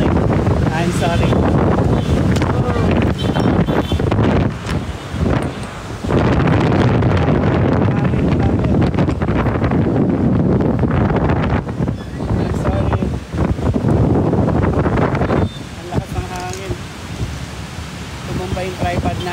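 Strong wind roars and gusts through a heavy rainstorm on Commonwealth Avenue in Quezon City, a loud, continuous buffeting rush that briefly dips before surging again and finally easing near the end.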